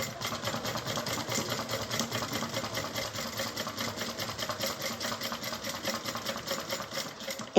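A sewing machine stitching around a corner of a Lettie Mini Bowler Bag, a steady close whirring hum that runs without a break.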